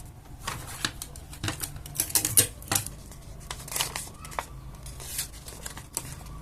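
Paper is folded and creased for a Ghostface paper mask, giving sharp crinkling snaps and rustles in irregular bursts, close and fairly loud.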